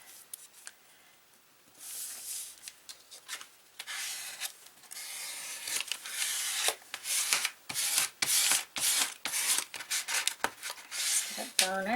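A paper edge on a handmade journal cover is burnished by close, dry rubbing strokes. They start sparse and soft, then become a rapid, louder run of short scrapes.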